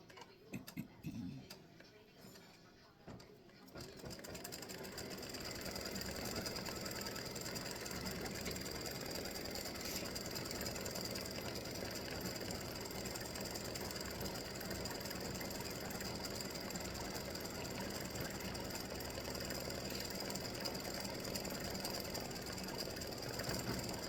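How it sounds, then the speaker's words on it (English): An embroidery sewing machine stitches a witch's hat in purple thread, a steady loud mechanical whirring and ticking that starts after a few seconds of quieter handling and runs on without pause. "this is going to stitch the hat, the witch's hat"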